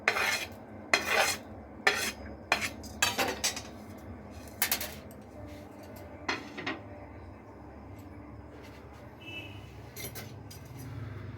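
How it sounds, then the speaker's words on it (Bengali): Chanachur is tossed with spices in a wok, with a series of sharp metallic clanks and scrapes from a utensil, clustered in bursts early and spaced out later, over quiet background. "আমি চানাচুরটা কড়াইয়ের মধ্যে ঢেলে নেব। কিছু মশলা মাখিয়ে নেব এবার"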